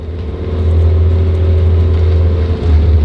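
A barn-find Mazda 323 GT, started after 27 years of storage, drives along with a steady, loud engine drone and low rumble that holds nearly constant, easing slightly before building again near the end.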